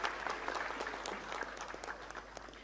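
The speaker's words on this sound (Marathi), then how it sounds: "त्यांच्यासाठी एकदा जोरदार सगळ्यांनी टाळ्या वाजवाव्या" An audience at a MHADA Konkan Board housing lottery event in Maharashtra applauds the arriving transport minister, a steady wash of clapping with a few sharper claps, heard from a distance over a low hum.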